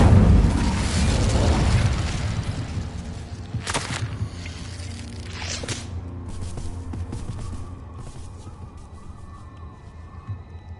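A fire spell cast in the Hogwarts Legacy video game erupts as a loud booming burst with a roaring rush, followed by sharp magical pops and crackles fading under continuing game ambience; no voices are heard.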